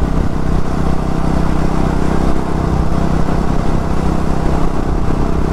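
Royal Enfield motorcycle cruising on the Delhi to Chandigarh highway, a steady, loud engine drone mixed with rushing wind that holds constant throughout with no voices.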